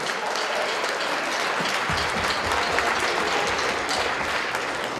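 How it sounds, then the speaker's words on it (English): Crowd applause for Karen and Floyd at the Garrick Centre fills the space, a dense, even roar of clapping held at a steady level for about five seconds, with no talking over it. "So big round of applause, please, for Karen and Floyd."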